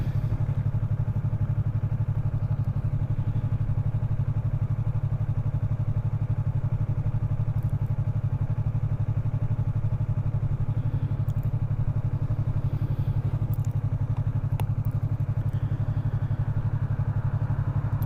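A motorcycle cruises along a straight road, its engine a steady low drone with constant rumble and faint wind, unbroken and even for the whole stretch.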